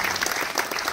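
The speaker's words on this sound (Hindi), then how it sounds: "इनको ताली बजा सकते हैं आप लोग।" An audience at a university faculty get-together in a hall claps in sustained, dense applause with no voices over it.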